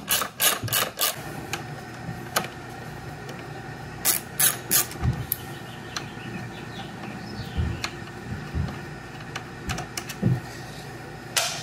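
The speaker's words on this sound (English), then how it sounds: "you just got 2 bolts right here. Both are 13 mil. I'm just gonna loosen and remove those." 13 mm brake caliper bolts loosened and removed on a Triumph Street Triple 675 motorcycle, with quick clustered ratchet clicks and metallic taps in bursts, close and fairly clear, no talking.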